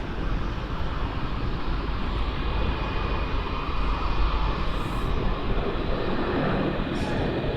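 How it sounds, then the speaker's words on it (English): A United Airlines jet departs foggy Melbourne Airport for Los Angeles, heard as a steady, loud, distant engine roar that rumbles continuously throughout. "our first departure today, Melbourne, Los Angeles, United 99"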